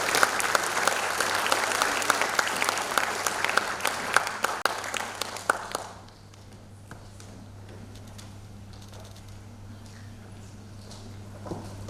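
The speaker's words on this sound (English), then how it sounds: "Let's give one more round of applause." Crowd applause at a Grade 8 promotion ceremony, full and steady for about six seconds before dropping to scattered, faint claps and room noise.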